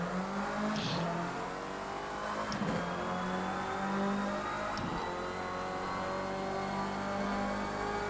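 A race car engine in Project Cars 2 hums steadily at moderate level throughout, with brief gear-shift dips and a continuous whine.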